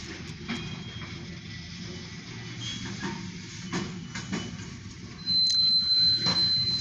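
An OC&T short grain hopper freight train passing slowly, with a low steady rumble, intermittent clanks and squeals from the cars, heard from trackside and growing louder toward the end.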